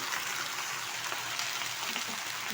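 Washed taro leaves frying in hot oil in a pan, a steady soft hiss and sizzle throughout with no talk.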